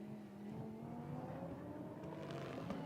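A Lamborghini Super Trofeo race car approaches the chicane at Spa-Francorchamps during a race, its engine note steady and droning at a distance, faint under a constant roar with no talk.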